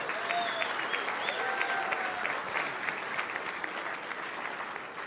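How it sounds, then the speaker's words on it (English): Audience applause at the 2024 Champions of Change luncheon, a steady wash of many hands clapping that holds through the whole stretch at even strength, with faint crowd murmur mixed in. "So please, a round of applause for her."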